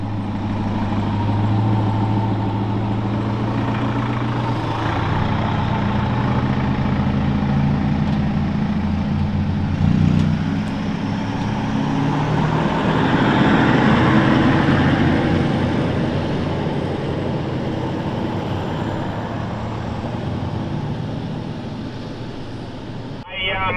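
A vehicle engine drones steadily while driving on the sandy tracks of K'gari, Fraser Island, a rumbling cabin hum that swells slightly midway, with people's speech heard over it.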